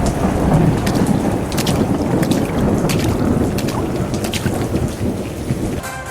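Heavy rain pours steadily in a storm in Chennai, with thunder rumbling and cracking several times, loud and close throughout, and no voices.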